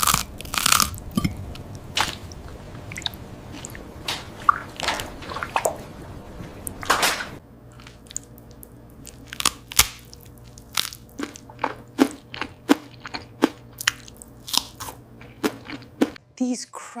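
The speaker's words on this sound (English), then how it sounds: "These crunchy spears are incredible." Crisp crunching and chewing of pickle spears, with sharp bites landing in quick succession, loud and close, among speaking voices at the start.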